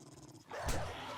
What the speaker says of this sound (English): There is a dog behind me.